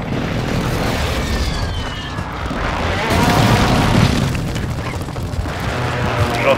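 Air strike explosions in Call of Duty Warzone 2.0 make a loud, continuous, deep rumble that swells around its middle, with a layered roar rather than separate blasts.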